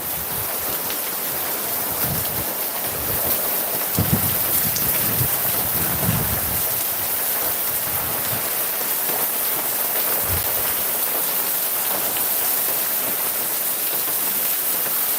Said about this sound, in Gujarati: માપસરનો વરસાદ અત્યારે પડી રહ્યો છે